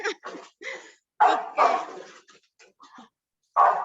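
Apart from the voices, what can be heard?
dog barking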